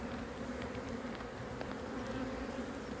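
Dense, steady buzzing of many honeybees swarming around an open hive with supers full of brood, close and continuous without a break.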